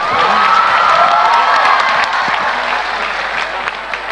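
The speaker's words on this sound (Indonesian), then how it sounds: "Berikan tepuk tangan 5 juta untuk Naya." A loud crowd at a live event in Indonesia bursts into applause mixed with cheering and high shouts, a close, dense wall of clapping and voices that holds steady for several seconds and eases slightly at the end.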